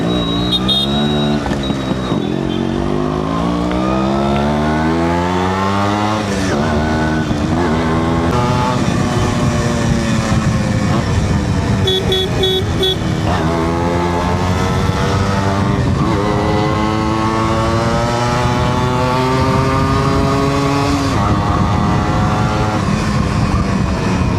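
A Yamaha RX100 two-stroke motorcycle rides along a road in Bangalore, its engine revving up and down steadily and loudly through repeated gear changes, heard close with no talking.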